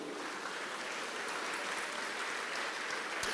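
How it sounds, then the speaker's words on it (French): Staff and guests at a mayor's New Year address give continuous, dense applause, a steady wash of many hands clapping at once without pause. "je vous demande de les applaudir bien fort."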